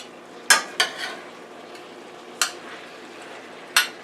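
Pork tenderloin, peppers and onions stir-fry in a pan under a soft steady sizzle, punctuated by four or five sharp scraping clatters of a utensil against the pan; no talking.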